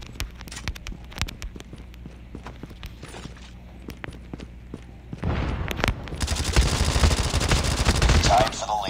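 Rapid Type 25 assault rifle fire in the mobile shooter Call of Duty Mobile, dense automatic bursts that grow louder and more continuous toward the end, over scattered sharper shots and game effects.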